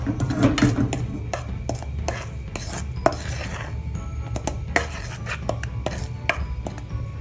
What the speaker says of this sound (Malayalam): ഇനി നമുക്ക് ഈ അരിപ്പൊടി ഒന്ന് വറുത്തെടുക്കണം